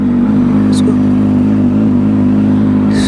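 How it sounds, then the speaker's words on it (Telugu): A motorcycle engine cold-starting and idling steadily, loud and close, with a low, even running drone throughout. "మన బండిని అయితే ఇప్పుడు కోల్డ్ స్టార్ట్ చేద్దాము"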